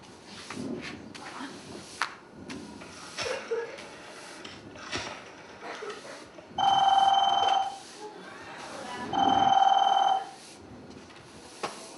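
An old-style telephone bell rings twice in a radio drama, loud steady double trills about two seconds long, with soft movement and room noise in between.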